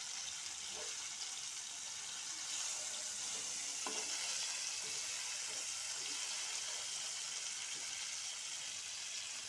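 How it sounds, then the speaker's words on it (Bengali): Fish fry sizzling steadily in a hot pan while the pieces are flipped over, a continuous broadband crackle with a few soft clunks of the turner against the pan. "ফিশ ফ্রাইগুলো, এখন উল্টিয়ে দিব।"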